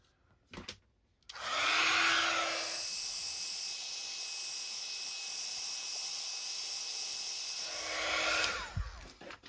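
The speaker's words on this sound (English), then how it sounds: "So we're going to use the heat gun and give that a good heat." A heat gun blows steadily over a junk journal page for about seven seconds, a loud, close, continuous hissing roar with a faint whine, starting abruptly and cutting off near the end.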